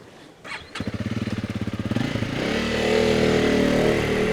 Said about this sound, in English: CRF300 Rally, the lightest bike on test, the least powerful bike on test